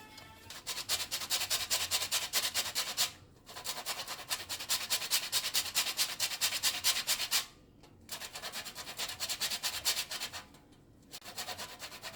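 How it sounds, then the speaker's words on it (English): Lime zest is grated over a fruit cake batter, a fast rhythmic rasping scrape repeated in steady bursts of a few seconds, with brief pauses between strokes, close and fairly loud. "Some lime zest that we are going to grate in here."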